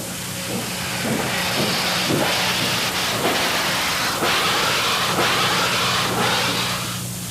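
A steam locomotive working hard, with loud continuous steam hissing and rhythmic chuffs from the pistons driving the wheels, heard close by with no talking.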